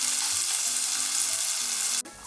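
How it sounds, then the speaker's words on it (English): Onion fries in a hot pan with a loud, even hiss and sizzle and a faint low hum beneath, then cuts off abruptly near the end. "Add the onion."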